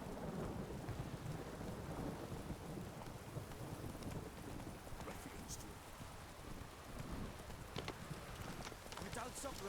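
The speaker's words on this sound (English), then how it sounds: "The storm, damn it." Steady rain pours throughout with low rumbling thunder rolling underneath in The Witcher 3, a dense, continuous storm soundscape with occasional brighter splashes.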